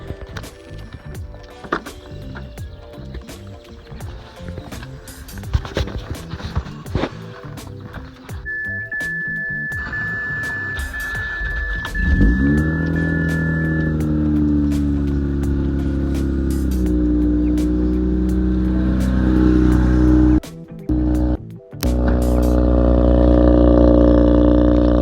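A Mazda RX8 rotary engine cranks and fires up, then settles into a loud, steady idle with a few sharp revs near the end, heard close with no talking.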